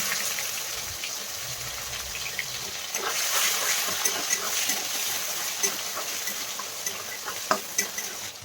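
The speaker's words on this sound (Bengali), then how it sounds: "দিয়ে দেবো পেঁয়াজ কুচি টমেটো কুচি দিয়ে ভালো করে নাড়িয়ে চাড়িয়ে নিচ্ছি এখন" Chopped onion and tomato frying in oil in a wok, stirred steadily, with a continuous sizzle and a run of scraping strokes that grows louder partway through and ends with a few sharp knocks.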